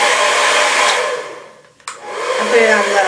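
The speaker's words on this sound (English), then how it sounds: "Okay, turn on your blow dryer." A blow dryer runs steadily and loudly for a round-brush hair styling session, dipping briefly as it is switched or adjusted, then resuming at full strength.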